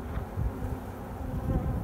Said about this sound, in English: Lovely honeybees.